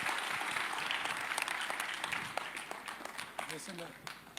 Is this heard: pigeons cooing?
no